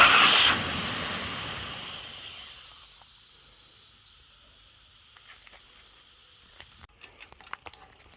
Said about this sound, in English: So I'm using a valve core removal tool just to take out the valve core.